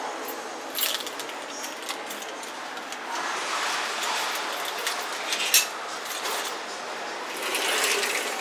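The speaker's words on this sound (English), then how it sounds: "You can hear the whir of the airbrush." Airbrush spraying paint on Gunpla models in a hobby shop in Malaysia: a continuous airy hiss and whir with small clicks, moderately close and alone without talk.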